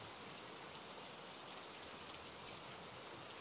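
Rain falls steadily, a dense, even hiss that stays constant and quiet with no other sounds.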